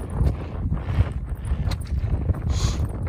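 Wind gusts across an exposed mountain peak with rumbling low-frequency buffeting against the microphone, steady and fairly loud with a few brief rustles and knocks, no talking.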